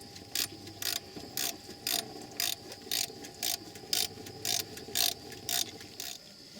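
Ratchet wrench loosening a thermostat housing bolt on a 2008–2020 Dodge Grand Caravan, a steady run of about a dozen evenly spaced, crisp clicking bursts, close and clear with no talk.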